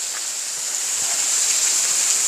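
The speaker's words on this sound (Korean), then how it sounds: "원각 폭포입니다." Wongak waterfall on a winter mountain trail gives off a steady, close rush of falling water, a continuous hiss with no pauses and no voices over it.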